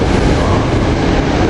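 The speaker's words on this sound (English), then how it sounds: "Doylestown train 588 coming in with railcars 409," A Doylestown commuter train with railcars rolls into a station at rush hour, a loud, dense rumble of wheels and motors filling the whole moment.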